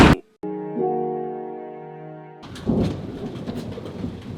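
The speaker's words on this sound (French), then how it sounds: "Oh, la pluie." Rain falls steadily outdoors during a storm, a broad hissing patter that begins partway through after a brief steady tone, continuing at moderate level with no voices.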